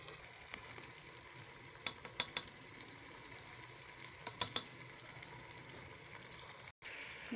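Potatoes and fenugreek leaves fry in a pan for dam aloo methi, giving a steady, faint sizzle with a few sharp clicks and scrapes of stirring scattered through.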